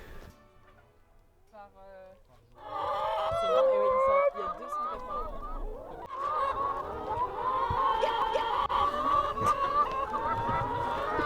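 Chickens on a farm visited for eggs cluck and squawk in a busy chorus, close and fairly loud, while a person talks over them, after a quieter opening.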